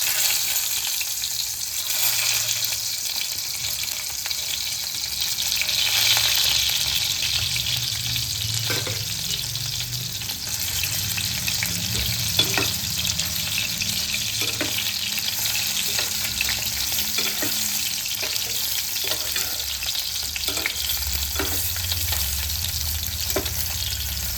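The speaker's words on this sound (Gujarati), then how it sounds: "બાફેલા બટેટા બધા ફ્રાય કરી લેશું જ્યાં લગી બ્રાઉન કલર ન થાય ત્યાં લગી અને ફ્રાય કરીશું" Boiled potatoes fry in hot oil until browned for dum aloo, a steady close sizzle with periodic scraping clicks of a spoon stirring the pan, no talking.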